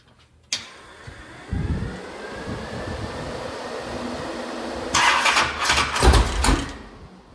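A Mopar 580 stroker V8 fed by a Quick Fuel 1150 carburetor cranks and fires, with a sharp bang at the start, then a rumbling run and a louder burst of revving near the end, loud and close, no talk.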